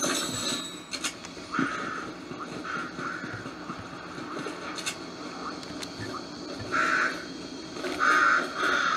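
A bird caws in the video game Fortnite, a few harsh calls sounding over steady background game noise, moderately loud.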